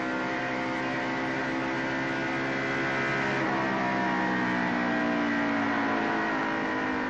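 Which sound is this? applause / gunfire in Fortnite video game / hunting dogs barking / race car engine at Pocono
race car engine at Pocono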